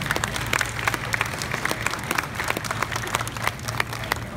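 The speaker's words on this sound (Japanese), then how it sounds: "ぜひ大きな拍手でアシモをお迎えください" An audience at Miraikan in Tokyo claps to welcome Honda's ASIMO robot, giving brisk, moderately loud, scattered applause over a low steady hum in the hall.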